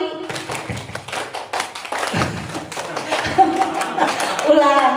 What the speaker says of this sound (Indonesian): Oke, sekarang tepuk 5 3 kali.